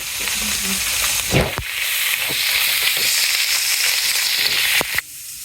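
Taro fritters fry in hot oil with a loud, continuous sizzle and hiss, punctuated by a few sharper bursts and clatters as pieces go in, close by and cutting off abruptly at the end.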